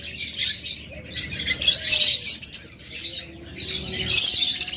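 A crowd of pet birds for sale, budgerigars, diamond doves, lovebirds and cockatiels, keep up a constant busy chatter of chirps and squawks, with a few soft coo-like notes underneath.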